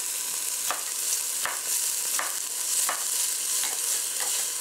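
Roughly chopped vegetables for chicken tortilla soup sizzle steadily in a pot, with a loud continuous hiss broken by several scraping stirs of a spoon at irregular intervals, close up and with no talking.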